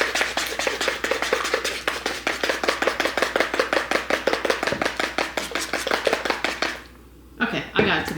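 A fork beats an egg into cow pie batter in a bowl, making rapid, steady clicking strokes close up for several seconds before a brief pause and a final few taps.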